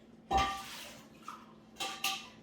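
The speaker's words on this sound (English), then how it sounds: "Clean as you go, so wash your pot out." A metal cooking pot being rinsed and handled at a kitchen sink: a loud clank near the start, a faint knock midway, then two sharp metallic clatters close together near the end, with quiet between.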